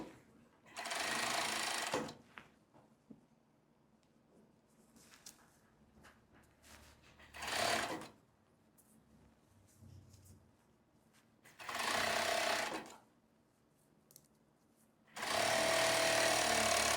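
A sewing machine stitching elastic onto the waistband of a long casual skirt, running in four loud, steady whirring bursts of a second or two each, separated by quiet pauses.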